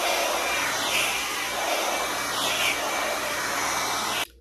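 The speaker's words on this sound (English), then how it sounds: "Okay, so I blow dried it out." A handheld hair dryer blows steadily while someone dries freshly dyed hair, a close, continuous broadband whoosh that holds for about four seconds and then cuts off abruptly.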